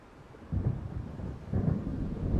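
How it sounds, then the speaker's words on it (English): Low rumbling thunder from an approaching storm in the video game Alan Wake, two swelling rolls about a second apart, fairly loud over a steady background wash. "It seems there's a storm coming."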